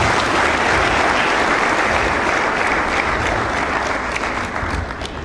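A lecture audience applauds after a speech by Professor P.L.O. Lumumba in Zambia, a dense, loud, steady wash of many hands clapping that carries on without pause and eases only slightly toward the end.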